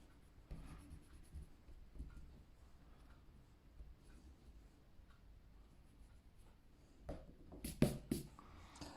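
A pencil sketches a caricature on paper in soft, close scratchy strokes and light rubbing, quiet and irregular, ending in a few louder, quicker scrapes.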